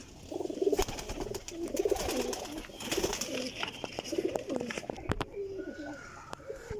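A Teddy Pipla breed pigeon coos in repeated low, rolling phrases, close by, with sharp clicks and rustles scattered between the calls.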